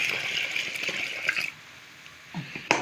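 Water poured into a bread dough mixture of dissolved yeast for Egyptian baladi bread runs as a steady close splashing stream for over a second, then stops, followed by a couple of small knocks.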